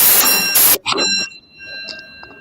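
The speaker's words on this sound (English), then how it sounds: "Chuvan, test the buzzer" A loud electronic quiz buzzer sounds in a short burst during a science quiz bowl buzzer test, followed by a second briefer tone and a fainter beep, with a quiet background.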